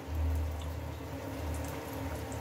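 Three pieces frying in plenty of oil on a gas stove turned low, giving a steady, close crackling sizzle with no pauses.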